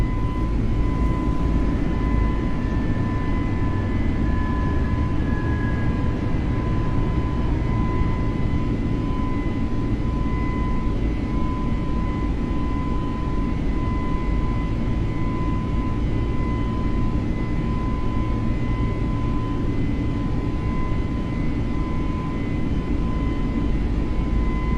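FlyByWire A32NX airliner taking off and climbing in Microsoft Flight Simulator, a loud, steady broadband engine roar with a faint constant whine, unbroken and alone for the whole stretch.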